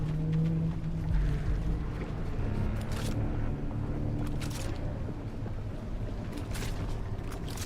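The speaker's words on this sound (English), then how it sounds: "May have left my engines on." Boat engines idling in The Last Caretaker video game, a continuous low rumble with wind-like noise and a few brief clattering bursts over it.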